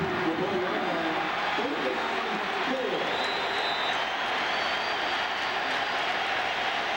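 Partisan stadium crowd at a college football game between Florida and South Carolina, a steady roar of cheering that fills the whole clip, with faint bits of voices mixed in.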